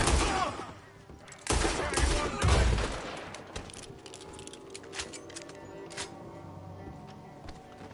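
Gunfire in the video game Red Dead Redemption 2, with loud close bursts of shots, then a sparser scatter of sharp cracks and clatter that fades into lighter crackling.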